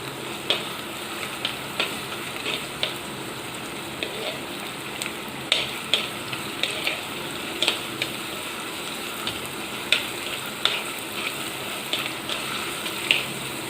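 Ginger and garlic sauté in a pan for a Kottayam-style fish curry, a steady sizzle with intermittent spatula scrapes and taps recurring through the whole stretch, close and moderately loud, with no voices.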